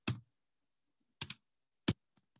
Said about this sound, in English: So I can keep typing.